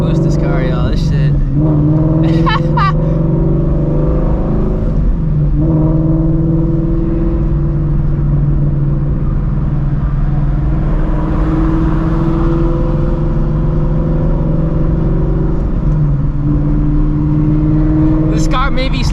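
Straight-piped Shelby GT350 V8 revving hard through a high-RPM pull, a loud, continuous engine roar with rising and falling harmonics as it climbs through gears, with a voice briefly audible over it.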